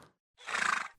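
A person's voice imitates a horse neighing, one loud, quavering whinny after a short pause, alone and close.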